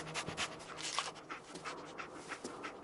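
Dogmeat, the dog in the Fallout video game, pants and sniffs quietly in short rhythmic huffs, faint and close, with no talk over it.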